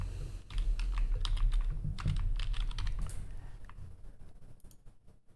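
Rapid clattering keystrokes on a computer keyboard as a file name is typed in animation software, a dense run of close, crisp clicks that thins out toward the end, with no talking.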